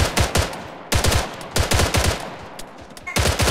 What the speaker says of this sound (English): We hear his shots.